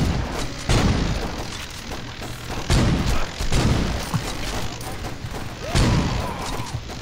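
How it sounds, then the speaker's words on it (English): Heavy booming shotgun blasts from a video game fire one at a time, four loud separate shots spaced a second or two apart, with clatter and mechanical noise between them. "Okay, I have a shotgun. It one-shots everyone."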